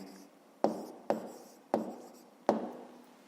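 A pen strikes paper in four sharp, evenly spaced taps as an answer is written down, each a short scratch close by in a quiet room.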